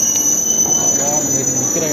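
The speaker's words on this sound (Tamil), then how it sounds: "அதே பிளாட்ஃபார்மில் இப்போ இன்னொரு ட்ரெயினும் வர வந்திருக்கு." A Chennai suburban railway train pulls into a station platform, its steady rolling rumble and a faint wheel squeal carrying under a constant high electrical whine, with people talking nearby on the crowded platform.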